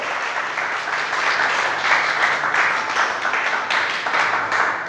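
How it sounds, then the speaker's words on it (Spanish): A church crowd applauds with sustained, dense clapping that swells and dips slightly, filling the room without pause. "Dale un aplauso a Dios, por favor."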